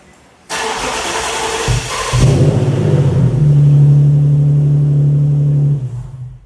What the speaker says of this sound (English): sounded like a good ass engine